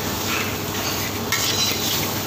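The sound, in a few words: stir-frying noodles in hot wok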